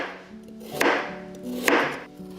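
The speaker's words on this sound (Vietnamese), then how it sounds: "2 củ cà rốt này mình tỉa hoa và cắt thành lát như thế này." A knife chops through carrots on a cutting board in two distinct, fairly close strikes about a second apart, with quiet kitchen background in between.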